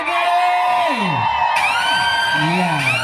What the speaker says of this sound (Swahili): Bado hata kigelegele sijasikia.